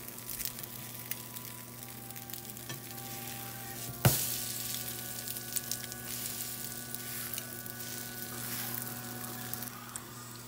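Slices of strawberry-bread French toast fry in a pan with a steady, close sizzle, broken by one sharp thud partway through as a piece is flipped, and then softer crackles and stirring noises, with no talking.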